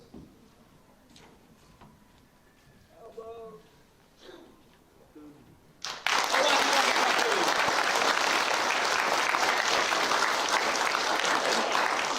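Audience clapping at a school assembly: about six seconds of quiet talk and murmur, then loud, dense applause bursts in suddenly and continues steadily to the end.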